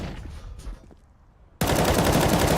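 Rapid automatic gunfire in Counter-Strike: Global Offensive during a competitive ESEA match, bursting in loud and sustained after a quieter stretch of faint game ambience.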